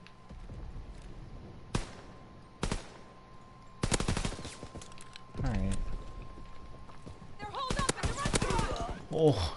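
Video game gunfire as scattered sharp shots and short automatic bursts, loud and close, broken by quieter gaps. Excited talking and movement sounds run alongside the shooting near the end.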